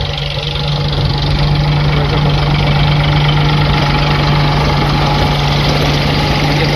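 A small tractor engine runs steadily nearby during groundnut threshing, a constant loud mechanical drone with an unchanging low hum throughout.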